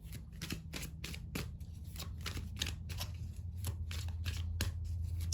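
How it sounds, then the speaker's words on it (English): Tarot cards being flipped and shuffled, a steady run of crisp papery riffles and snaps, close and fairly quiet, repeating in quick irregular bursts with no talking. "I'm going to flip out some more cards"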